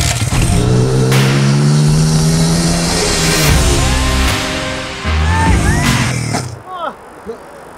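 A motorbike engine roars at full throttle, loud and close, with its pitch rising and holding as the bike runs up toward a backflip ramp, then cutting off sharply near the end.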